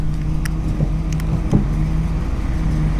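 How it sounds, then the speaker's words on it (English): A retro tow truck's engine rumbles steadily at close range while its pump runs, giving a continuous low drone with a faint whine and a few small clicks and knocks. "Let's see what happens when we turn the pump on."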